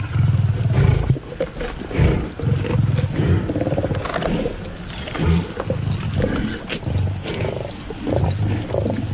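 Lions roar and growl loudly and close while attacking buffalo on the African savanna, deep rumbling bursts repeating over several seconds amid scuffling commotion.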